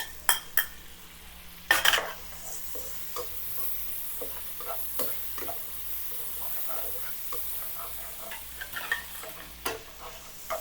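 Red onion frying in a pan for pork humba, a steady soft sizzle broken by repeated clanks and scrapes of a utensil stirring against the metal pan.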